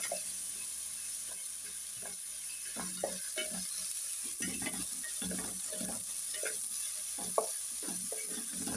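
Onion sautéing in a pan, a faint continuous sizzle with repeated soft scraping and tapping of stirring at an uneven rhythm, quiet and close, with no talking.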